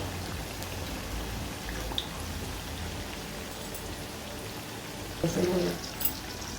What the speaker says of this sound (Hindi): बाहर बारिश का मौसम है